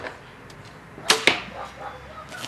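Arrow loosed from a Bear Motive 7 compound bow, a faint pair of sharp snaps against quiet outdoor background, very little noise from the release.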